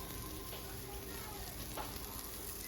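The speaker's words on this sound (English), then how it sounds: "you can see the jalapenos are a little toasted. Woo, little cracking" Jalapenos crackle and sizzle in a pot, cooking for turkey chili beans, with a soft steady frying hiss broken by a few faint pops up close.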